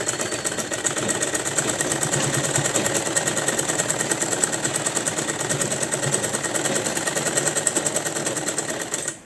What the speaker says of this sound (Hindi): अब हम इसके ऊपर से हमारी टॉप सिलाई लगा लेंगे।